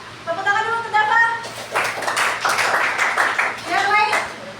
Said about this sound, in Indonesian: Tepuk tangan dulu untuk dapat.